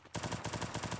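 Gunfire in a PC shooter game: a rapid automatic burst of about ten closely spaced, loud shots, evenly paced and lasting just under a second, with no talk over it.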